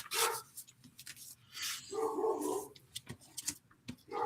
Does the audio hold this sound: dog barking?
yes